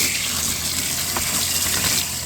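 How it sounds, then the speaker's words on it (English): Water gushes steadily and loudly into a narrowboat's tank at a canal-side water point, a constant close rushing hiss with no breaks and no talking. "we're going to fill up on water"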